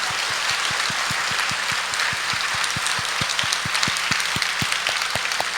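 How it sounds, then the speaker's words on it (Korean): A church congregation claps in unison, a brisk, even run of sharp hand claps over a constant bright wash of applause and room noise, loud and sustained throughout. "우리 하나님께 손뼉으로 영광."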